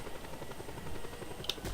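A helicopter in a video game hovering just above the ground while being hijacked: a faint, steady rotor chop pulsing evenly, with a brief click near the end.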